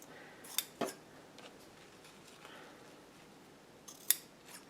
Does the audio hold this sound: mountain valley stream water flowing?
no